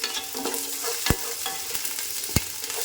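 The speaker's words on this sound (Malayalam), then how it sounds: "ഇതെല്ലാം കൂടി നമുക്കൊന്ന് വഴറ്റിയെടുക്കാം" Garlic, chilli and ginger sizzle and crackle in hot oil as they are sautéed, with two sharp clanks of a spoon against the pan.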